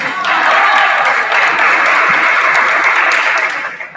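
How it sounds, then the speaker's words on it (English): Applause rises from an audience at a middle school graduation ceremony, a dense, steady wash of clapping from many hands that holds for several seconds before easing off at the end. "Please give these students a round of applause for their hard work and determination throughout the years."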